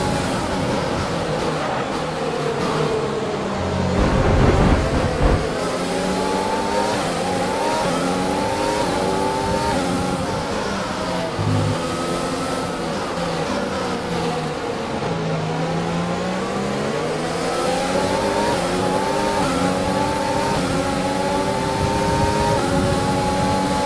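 F1 race car engine in the F1 2020 game at Zandvoort, a high-pitched whine climbing repeatedly through rising gear sweeps with brief dips at shifts, loud and continuous, no talk.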